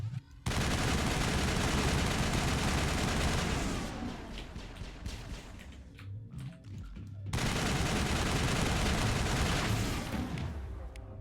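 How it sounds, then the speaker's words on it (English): Sustained assault rifle fire in a Mass Effect boss battle, dense rapid bursts that dip briefly before resuming loud and continuous, with a faint voice underneath. "is she using the assault rifle?"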